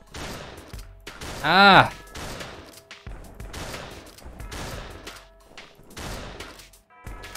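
Gunfire in a Santa-themed shooting video game comes in rapid bursts of sharp shots repeating through the clip, with one louder blast early on, and a player's brief exclamation.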